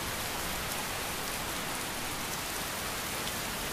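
Steady rain falls in the game Skyrim, an even, continuous hiss of drops spread across the whole clip with no gaps, no voices and no distinct thunder.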